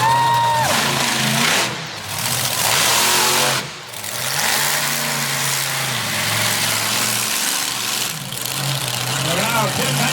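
At a county fair monster truck show, a big engine roars and revs loudly, holding a heavy drone with brief dips and surges, while an announcer talks over it.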